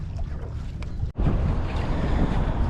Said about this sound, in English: It wasn't supposed to be this windy or choppy.